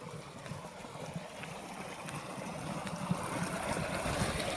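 Water pouring out of a farm pond into an irrigation channel, a steady broad rushing and gurgling wash that grows slightly louder, heard close and continuous with no talk.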